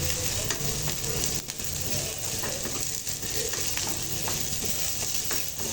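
Vegetables sautéing in a hot pan at home, softening as they fry for curd rice: a continuous close sizzle with faint stirring scrapes, steady and fairly quiet, with no voice.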